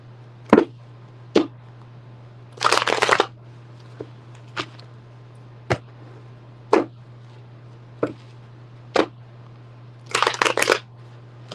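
Cards are shuffled close up in two bursts of rapid riffling, separated and surrounded by single sharp taps and snaps against a steady low hum.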